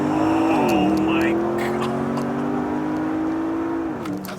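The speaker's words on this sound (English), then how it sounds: "So, folks, that was launch control." A Porsche Panamera Turbo launches hard under launch control, its engine note climbing through gear changes as the car surges forward, loud and close from inside the cabin.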